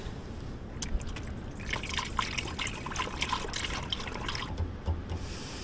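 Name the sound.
pouring coolant into a Ford tractor's coolant reservoir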